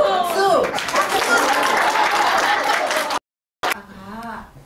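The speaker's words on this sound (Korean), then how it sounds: "박수." Children in a classroom clap together in a quick burst of scattered applause that lasts about three seconds, with excited voices over it, then a break and an adult voice afterward.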